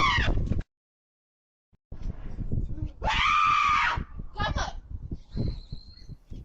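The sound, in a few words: woman screaming in fright at bear cub on deck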